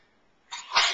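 A single sharp sneeze from a child, a quick intake followed by a loud burst of air, close to the microphone in a quiet indoor room.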